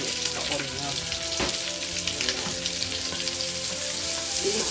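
Onion and celery sizzle in hot frying oil in a wok, a loud, dense, steady crackle with occasional stirring clinks and no clear talking.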